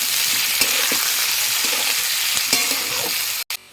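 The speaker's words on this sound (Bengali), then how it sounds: "আলু পেঁয়াজ আমার ভাজা ভাজা হয়ে গেছে" Potatoes and onions crackle in hot oil in a pan, a continuous dense sizzle with several sharp scraping strokes from stirring.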